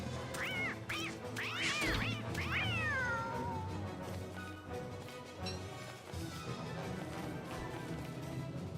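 A cat in Don't Starve Together lets out a run of several meows and yowls near the start, loud and close, over constant busy game music and effects that go on after the calls stop.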